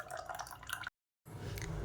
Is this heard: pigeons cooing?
no